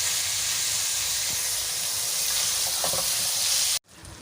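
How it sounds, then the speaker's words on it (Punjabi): Keema mince frying for stuffed tinda, a steady loud sizzle and hiss from the pan that runs without a break, then cuts off abruptly near the end. "ਜਦੋਂ ਤੱਕ ਇਹਦੀ ਕੀਮੇ ਦੀ ਰੰਗਤ ਚੇਂਜ ਨਹੀਂ ਹੁੰਦੀ ਅਸੀਂ ਇਹਨੂੰ ਫਰਾਈ ਕਰਾਂਗੇ"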